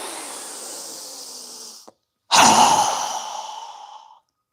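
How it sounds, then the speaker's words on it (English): A fast, strong exhale is pushed out through the mouth during a breathing exercise, following a long breathy inhale and a short silence, a close, loud rush of air that fades away. "we're going to exhale with a fast, strong breath as we quickly lower our arms and hands down, exhaling through our mouth"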